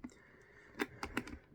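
A computer keyboard being typed on, with a handful of sharp, quiet key clicks in an irregular cluster, recorded close by with no voices.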